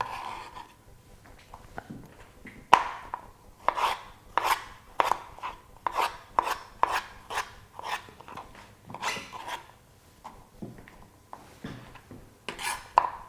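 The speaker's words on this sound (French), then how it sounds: "je coupe en deux dans la longueur et je recommence à faire des petits dés" A knife chops courgette into small cubes on a board, in a steady run of sharp, close taps with short pauses between bursts.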